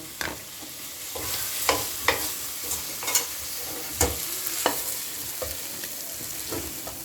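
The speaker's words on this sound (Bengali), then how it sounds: "দেখুন এটা টমেটো আর পেঁয়াজটা একটু ভাজা ভাজা হয়ে গেছে।" Tomato and onion fry in a pan with a soft, continuous sizzle while a spoon stirs and scrapes at irregular intervals, close by and with no talking.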